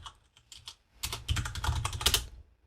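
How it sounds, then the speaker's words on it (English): Clicking keys patter on a computer keyboard as a git push command is typed, a few sparse taps first, then a denser quick burst of keystrokes, close and fairly quiet with no talking. "So we do that by typing git push origin,"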